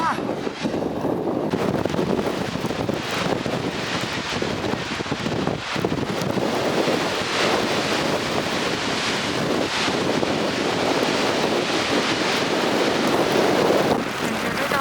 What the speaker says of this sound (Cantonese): 冰島嘅天氣真係唔係咁簡單，大風好大